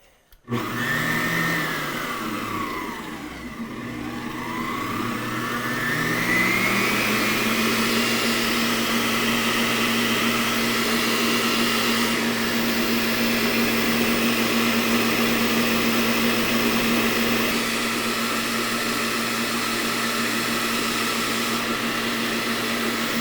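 A Farberware budget stand mixer whips cream with sugar and vanilla to soft peaks, giving a loud, steady whirring motor hum that rises briefly in pitch as it settles, running continuously and close with no voices.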